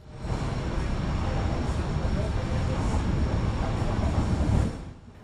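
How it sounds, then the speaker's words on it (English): Trenitalia Regionale Veloce train running from Pescara to Rome, a loud steady rumble of the moving carriage that holds even throughout and then fades away near the end. "the Trenitalia Regionale Veloce service from Pescara to Rome"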